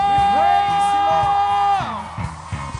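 A crowd at a religious worship gathering shouts and whoops in a loud sustained cheer that fades, with rhythmic drum hits beneath it.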